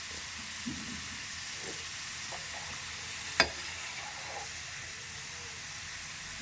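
French fries deep-frying in hot oil give a steady, faint sizzling hiss throughout, with one brief sharp crackle near the middle and no talking.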